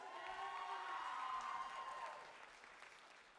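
A crowd at a live music competition applauds and cheers for a band, with a loud, dense burst of clapping and whoops that gradually fades.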